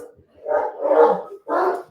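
Several dogs bark in quick bursts, fairly close, with a short pause before a final loud bark.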